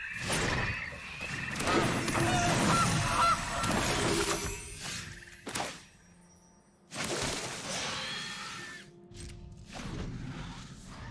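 Honking goose sound effects from the card game MTG Arena come in loud, harsh bursts with game noise around them. A short gap breaks the run before the honks resume and fade.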